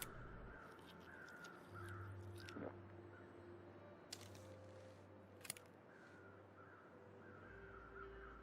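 Crows caw in the video game The Long Dark, a few distant calls over quiet game ambience, with faint crunching and clicking sounds in between.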